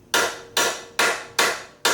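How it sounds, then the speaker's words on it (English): Five sharp metallic hammer strikes on a stuck bolt of a BMW E36 suspension land at a steady rhythm, each ringing briefly before the next, close and loud with no talking. "try to back the nut all the way out and then try to hammer it"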